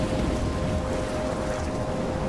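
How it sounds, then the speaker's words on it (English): Rain and a thunderstorm in the video game Life is Strange, a steady, dense downpour hiss with low rumbling beneath, continuous and loud for the whole stretch. "I'm trapped in a storm?"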